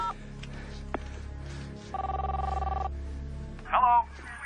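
A telephone rings while calling a mother's cell phone: a ringback tone repeats in steady bursts through the earpiece, followed by a short louder electronic chirp near the end, with faint background hum.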